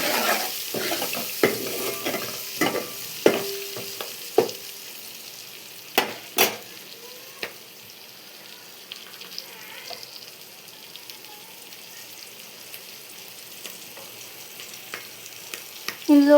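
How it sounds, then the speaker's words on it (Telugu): A spoon stirs turmeric into ingredients frying in a pan for pappu charu, with a steady close sizzle under a series of sharp scraping clinks against the pan, busier early and thinning out later. "ఇవి కాస్త వేగుతున్నప్పుడు మనం ఇందులోకి 1 టేబుల్ స్పూన్ పసుపు యాడ్ చేసుకున్నాం. వేసుకొని ఒకసారి బాగా కలుపుకోవాలి."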